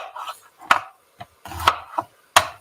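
An onion is chopped with a knife on a wooden board, giving several sharp, close knocks spaced unevenly with quieter scraping and slicing between them, and no one speaking.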